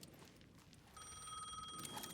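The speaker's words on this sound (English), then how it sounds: "The payphone was ringing again." A payphone rings in Alan Wake 2, a trilling electronic bell sounding once for about a second amid low background rumble, faint and somewhat distant.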